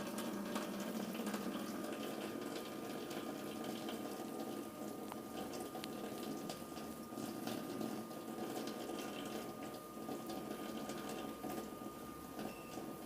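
A small solar-powered water pump draws water out of a bucket, giving a steady, continuous whir and trickling wash of liquid that holds level throughout with no talk.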